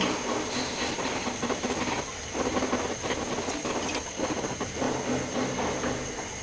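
Luchi, a puffed Bengali flatbread, fries in hot oil with a continuous crackling hiss and dense bubbling that stays steady throughout, close and fairly loud.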